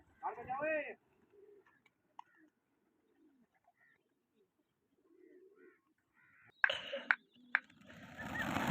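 Pigeons coo faintly in low, soft murmurs, mostly heard in quiet stretches between a voice at the start and louder clattering near the end.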